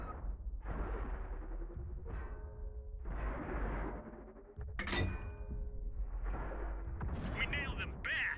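Shell impacts and booming shots from a 105 leFH18B2 premium self-propelled artillery piece hitting a Panzer IV in World of Tanks on Xbox: several heavy thuds with metallic clinks and sharp cracks, repeating every second or two.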